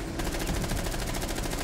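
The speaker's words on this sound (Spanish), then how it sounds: "Claro, todos esos tiros me los dio." Rapid automatic gunfire from a Rainbow Six Siege ranked match, a dense, continuous burst of shots that stays loud and close for the whole stretch.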